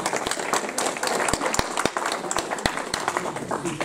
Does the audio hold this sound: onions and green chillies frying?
no